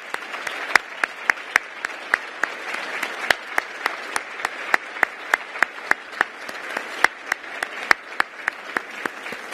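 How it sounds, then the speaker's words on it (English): An audience at a Boston Municipal Research Bureau annual meeting gives a round of applause, with loud, close, distinct claps over a steady bed of quieter clapping that goes on throughout. "so we can give you a round of applause"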